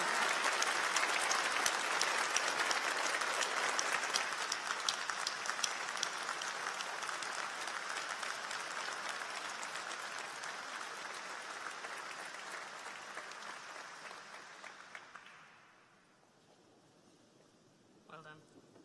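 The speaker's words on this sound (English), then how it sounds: "Big round of applause." Sustained audience applause fills a cathedral at a university graduation ceremony, loud and steady for about fifteen seconds before tapering off and fading to near silence, with a brief spatter at the end.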